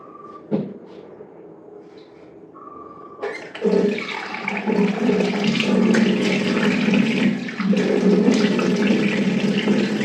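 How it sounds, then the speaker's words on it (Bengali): Tap water runs steadily into a sink during hand and face washing, starting after a few clicks and short bursts, then flowing loud and close for several seconds. "এই তো হাত মুখ ধোয়া শেষ।"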